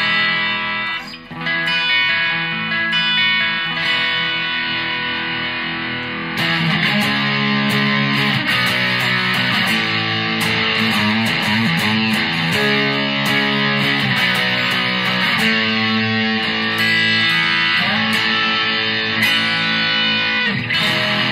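Solid Bond Coursesetter electric guitar, a student model, played through a crunchy overdriven tone, with chord strums and riffs ringing out loud and continuous, the playing thickening after a brief opening phrase.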